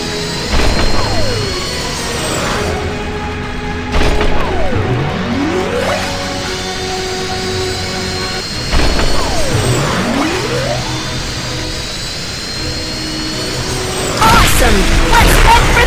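A cartoon rocket roars and whooshes as it blasts off and speeds up, with rising and falling sweeps, bangs and rumbles over a constant animated backdrop.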